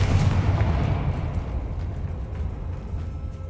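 A Confringo spell blast goes off as a loud burst at the start, then decays into a low rumbling tail over a few seconds; no talk.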